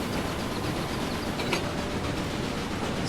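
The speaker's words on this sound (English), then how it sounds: "Passenger train going through." Passenger train speeding through a station in Railway Empire, Great Britain and Ireland: a steady, dense rolling rumble of carriages passing close by, with no speech.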